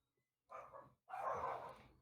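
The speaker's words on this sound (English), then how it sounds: "Oh, they're barking. Dogs." Dogs give two short barks in quick succession, the second longer and louder, fairly faint against an otherwise quiet background.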